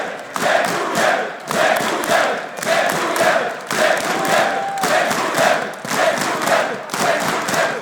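A large esports arena crowd at a CS:GO semifinal between Virtus.Pro and LGB at ESL One Katowice 2014 chants and cheers in rhythmic bursts, loud and roaring, with rising and falling waves of noise.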